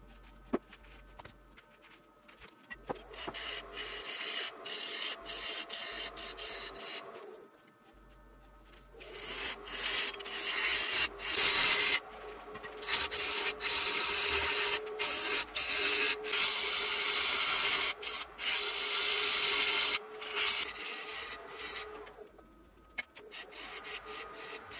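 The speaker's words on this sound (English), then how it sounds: "I started sanding at 80 grit and went through all the grits clear up to 320." A cracked Norway maple bowl spinning on a lathe gets sanded through grits from 80 to 320, giving a steady, close, rasping rub that pauses briefly partway through and then resumes, with no talking.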